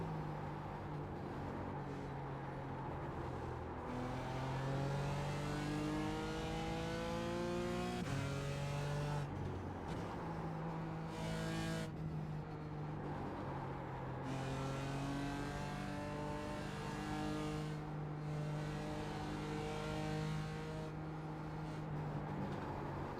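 A BMW GT4 race car engine in the iRacing VR sim racing game drones steadily through a final lap, rising in repeated upshift sweeps and dropping between gears, loud and continuous with no talk.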